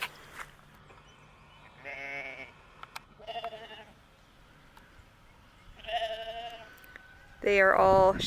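Sheep on a homestead bleat in several separate calls, a couple of short bursts early, another in the middle and a loud close one at the end, with quiet pauses between them.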